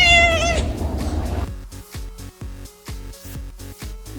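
A cat gives one loud, drawn-out meow at the start, then a steady rhythmic musical beat takes over with evenly spaced pulses.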